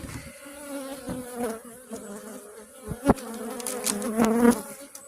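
Dense buzzing of many honeybees swarming close up around an opened hive, a steady droning hum with occasional sharper knocks and scrapes.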